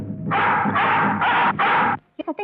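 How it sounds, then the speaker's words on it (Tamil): A hunting dog chasing a deer lets out a run of four loud, harsh barks in quick succession, followed by a few short higher yelps as it moves off. "யாரோ வேட்டை நாயை விட்டுருக்காங்க. அது மான துரத்திட்டு போகுது"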